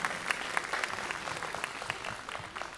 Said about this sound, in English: Yeah, clap for it.